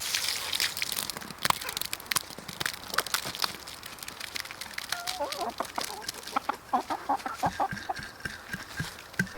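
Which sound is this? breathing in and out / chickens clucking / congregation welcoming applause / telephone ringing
chickens clucking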